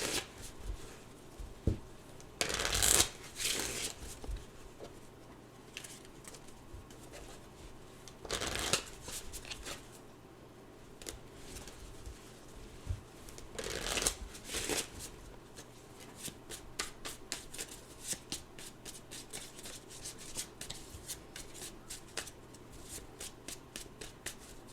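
A deck of oracle cards being shuffled by hand, repeated riffling bursts and soft flicking, close up, with a few brief louder shuffles spread across the stretch.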